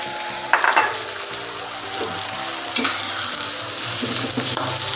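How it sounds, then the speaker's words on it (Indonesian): Fried eggplant sizzles steadily in a hot pan while a utensil stirs and scrapes, with a low hum underneath throughout. "Setelah itu kita masukkan terong yang tadi kita goreng."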